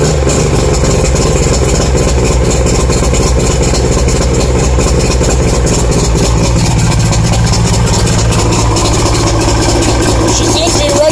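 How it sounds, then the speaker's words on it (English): A motorboat engine thought to have a propeller or engine problem runs loud and close, churning steadily at idle with a rough low drone for the whole stretch. "I'll start the boat up on for you."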